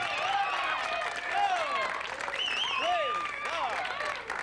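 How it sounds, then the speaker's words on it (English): A studio audience applauds at the opening of a 1983 local television show, steady clapping mixed with excited voices and cheers. "The applause, it's like a drug."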